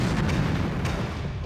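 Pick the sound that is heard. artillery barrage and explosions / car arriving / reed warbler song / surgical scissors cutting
artillery barrage and explosions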